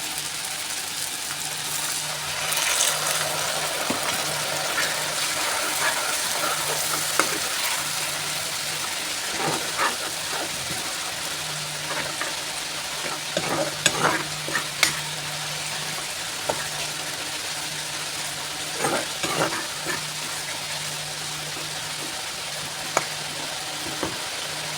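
Chicken masala sizzles steadily in a pan after water goes in, with continuous frying hiss, occasional scraping stirs and light clinks throughout, close and even, no talk.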